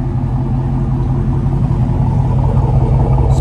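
A 2021 Dodge Charger Scat Pack 392 V8 idles close by, a deep, steady rumble, low and throaty, holding an even tone with no talking over it.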